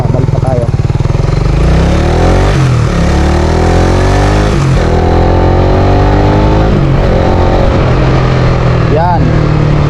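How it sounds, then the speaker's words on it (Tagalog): Motorcycle engine braking, a loud, close engine that repeatedly winds down in pitch as it slows on its own momentum, with someone talking over it throughout. "Yun yung tinatawag na engine brake mga boss."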